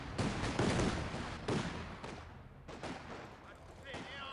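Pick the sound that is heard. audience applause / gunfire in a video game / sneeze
gunfire in a video game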